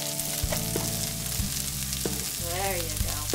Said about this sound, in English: Look at that fried sizzle.